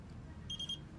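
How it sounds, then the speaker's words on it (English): A Best Built BB-5S laser engraving machine gives a short series of quick, high electronic beeps, faint and close, over a low room hum. "once it starts beeping, that means that the image has been loaded into the engraving machine"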